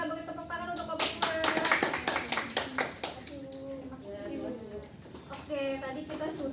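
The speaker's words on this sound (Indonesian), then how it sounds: "Kita beri tepuk tangan untuk kelompok 2." Students in a Grade 10 classroom clap for a group after its presentation, a scattered burst of handclaps, loudest early then tapering, with the teacher talking over and after it.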